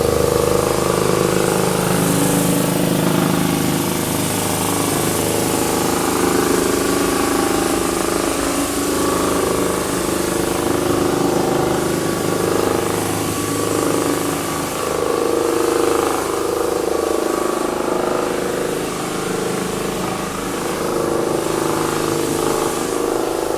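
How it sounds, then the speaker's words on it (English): A floor sander runs continuously on rustic timber floorboards during a DIY flooring job, a loud steady motor drone with grinding texture as it is pushed back and forth, with no talking. "you just keep sanding"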